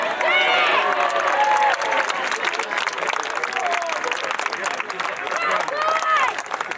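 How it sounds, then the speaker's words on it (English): An arena crowd at a D-Day 70th anniversary event cheers and applauds a Royal Marines race, a dense wash of clapping and shouts with a commentator's voice heard over it. "Let's give them a cheer."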